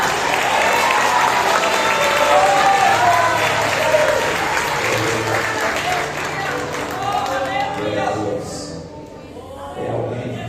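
Church congregation at an Assemblies of God congress applauding loudly and steadily, a dense wash of clapping with crowd noise and a voice talking over it, fading slightly toward the end.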